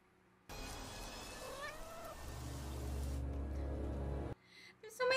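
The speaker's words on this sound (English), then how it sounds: "They're Loth cats." Loth cats from the Star Wars series Ahsoka meowing, their rising cries heard over a loud, steady soundtrack rumble, with a brief break before more sound at the end.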